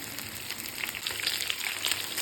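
Chicken legs shallow-frying on a tawa produce a continuous close, crackling sizzle with scattered sharper pops, with no voices over it.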